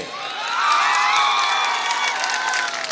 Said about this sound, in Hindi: ताली अब बजा लो, ताली जिसको जितना बजाना है।